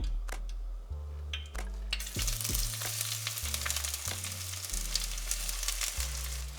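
Two large sliced onions fry in a pan for a Kerala egg roast, giving a steady, close sizzle that swells after a couple of early clatters and carries on without pause.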